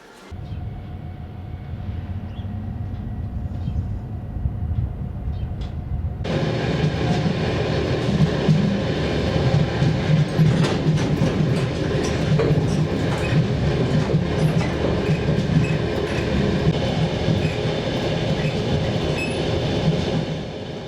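The Trans-Mongolian train rolls along its rails bound for Irkutsk, a loud, steady rumble with rhythmic clickety-clack that swells sharply after a quieter start and carries on continuously throughout.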